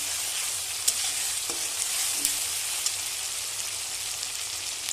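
Crab masala fries in a pan with a steady, close hiss and sizzle, broken by occasional faint pops and a few soft stirring clicks.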